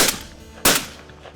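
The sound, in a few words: gunshots while hunting wild boars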